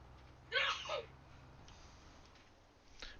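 A single sneeze, sharp and airy with a quick two-part burst, rings out against a quiet background, followed by a faint breathy sound near the end.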